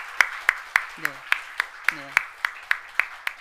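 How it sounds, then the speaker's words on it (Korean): A small church congregation claps in a steady rhythm, about three claps per second, sharp and close in a worship room, to welcome a new member, with a brief spoken word over the applause. "우리 힘차게 한번 박수 한번 보냈으면 좋겠습니다"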